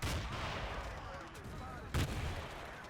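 Grenade explosions and gunfire fill a Battlefield 2 match around a mosque capture point. Continuous rattling gunfire is punctuated by a sharp, loud blast near two seconds, all set in a dense, distant-sounding battle din.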